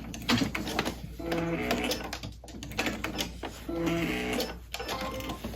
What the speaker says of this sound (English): I will do a back stitch so it's nice and secure